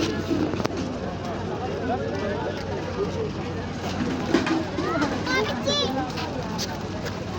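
Pigeons coo softly amid a busy outdoor ambience, with children's voices and chatter in the background and occasional fluttering chirps.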